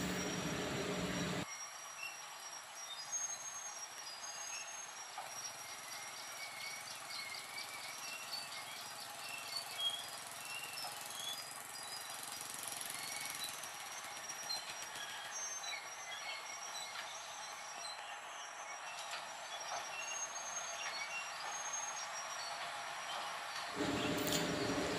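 A sugar cane lorry train locomotive rolls along an overgrown track through dense trees, rails half buried in earth and grass, with continuous grinding wheel noise and shrill squeals rising and fading over a steady low rumble.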